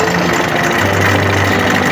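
Walk-behind roller engine with a broken bracket, running rough with heavy vibration: a loud, steady close-up rumble and rattling knock that continues unbroken throughout.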